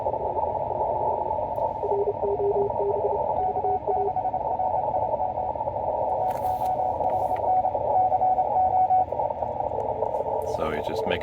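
Morse code on amateur radio sends a CQ NA call as thin, rapid beeping tones over a loud bed of static hiss and band noise, with other faint signals and crackles breaking in.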